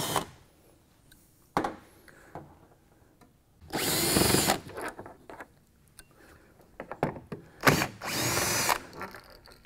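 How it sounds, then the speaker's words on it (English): Power drill whirring in several bursts, two long runs of about half a second each and shorter blips, as screws are backed out of the bottom of a Dri-Eaz DrizAir 1200 portable dehumidifier; close and loud with quiet gaps between. "I remove two more screws here on the bottom of the unit."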